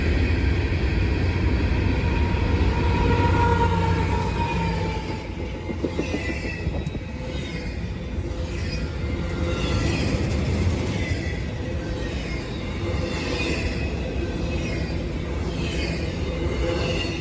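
A CSX freight train led by a single AC-44 locomotive with a GEVO mid-train passes close by, loud rumbling and clattering railcar wheels with some squeal, steady throughout.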